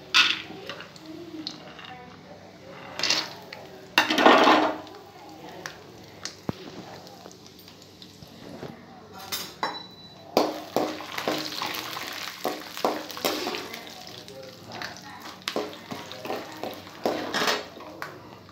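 Chana dal, urad dal and peanuts frying in a pan, with metal spoon scrapes and clinks against the pot, soft sizzling underneath, and louder bursts of stirring and clattering in the second half.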